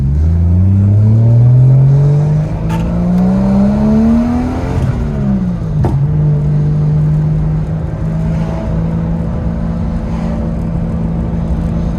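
A Nissan Skyline R33 engine revs and pulls, its tone climbing steadily through the gears with brief shift breaks, loud and close, then settling into a steady drone.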